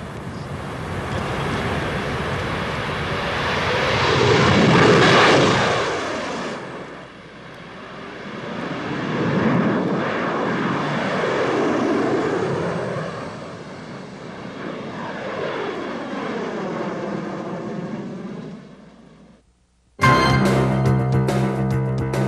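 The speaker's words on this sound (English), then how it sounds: "The current version of the Harrier has nearly twice the range of the earlier Harrier I." Harrier jet aircraft roaring loudly with sweeping, rising and falling engine whine, swelling and fading as it passes, then a sudden cut to a different burst of loud noise near the end.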